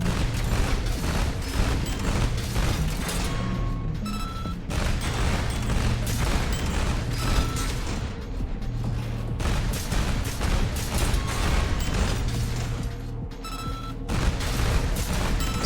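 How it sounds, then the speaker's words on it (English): Burst machine guns fire in the Armored Core 6 video game, loosing rapid, repeated volleys in a steady rhythm with brief pauses between clusters. "The burst machine guns."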